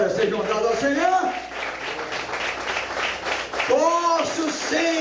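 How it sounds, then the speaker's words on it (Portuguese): Church congregation applauding for Jesus during a Brazilian evangelical sermon, steady clapping that runs throughout under a pastor's loud preaching voice. "Palmas para o Senhor Jesus, glória seja dadas ao Senhor."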